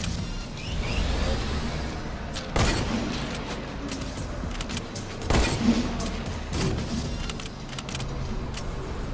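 Hunting rifle shots in a video game ring out as a few loud, sharp single cracks spaced seconds apart over a steady rumble of game noise, with no talk.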